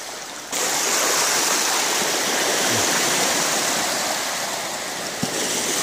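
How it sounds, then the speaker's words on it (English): Flood tide water rushes in a raging torrent onto Porlock Marsh, a loud continuous roar of churning water heard close, with a brief soft thump near the end and no talk. "the raging torrent that is flooding onto Porlock Marsh"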